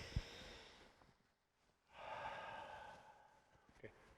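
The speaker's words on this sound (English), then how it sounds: "When we breathe in, we take a deep breath." One deep karate-style breath drawn in through the nose, a close, soft rushing inhale lasting about two seconds after a brief snort, with no talking.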